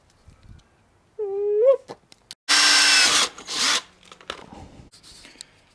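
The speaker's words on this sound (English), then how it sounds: "So these step drills are a pretty handy little tool. I'm just going to push that into the original hole" A step drill bores into an existing hole in the engine bay of a Toyota Celica during a cold air intake install, sounding in a short whine and then a sustained loud burst followed by a briefer spin-up, close by.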